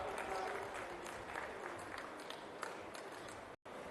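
Students applauding at a legislators' sports meet inauguration, a steady wash of claps held across the clip under faint voices, broken by one brief dropout near the end.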